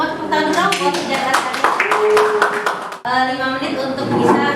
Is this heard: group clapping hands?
yes